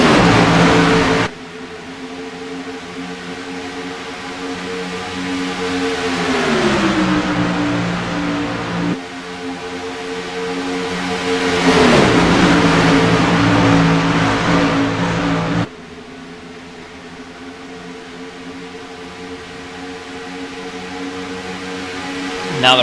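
Race cars in a recreational sportsman series at Atlanta roar past in turn 1, engines rising and falling in pitch as they approach and pull away, loud and close with steady track noise underneath.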